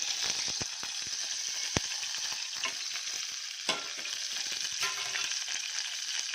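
Mustard seeds, chana dal and urad dal crackle and sizzle in hot oil with a little butter for tempering, a dense steady fry punctuated by sharp pops and a few louder spits, close and without speech.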